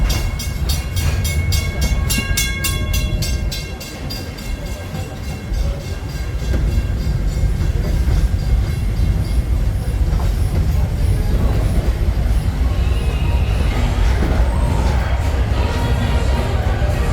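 A Disneyland or Walt Disney World Railroad park train rolls along steadily with a continuous rumble and rhythmic clickety-clack, loud and close. High tonal whistle-like tones sound early on, and faint crowd voices mix in.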